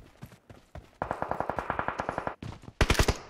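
Rapid automatic gunfire in PUBG Mobile, a tight run of about a dozen evenly spaced loud shots, then a short pause and a sharper, closer burst near the end.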